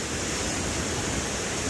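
Water rushes at the KRS backwaters, a loud, dense, continuous roar with no pauses, close to the listener and heard alone.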